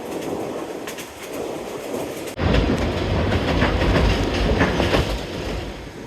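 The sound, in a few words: narrow-gauge train running on rails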